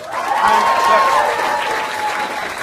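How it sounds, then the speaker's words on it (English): A studio audience at a Jamie Oliver steak and wild mushroom cooking show gives a short, loud burst of applause, steady crowd clapping with a faint tonal ring through it. "Give him a round of applause, everyone."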